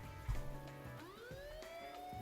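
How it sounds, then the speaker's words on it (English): In a visual-novel video game, a police siren wails upward in pitch, rising and sustained in the distance over a dense musical background. "When she hears the sirens of police cars approaching in the distance, she loosens her grip."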